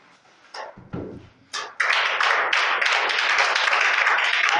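A church congregation clapping to acclaim Jesus: a few scattered claps and thumps at first, then steady, dense rhythmic applause from many hands.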